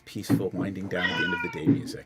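An upset cat meows loudly and close by, a drawn-out, whining cry that rises and falls, while people talk around it.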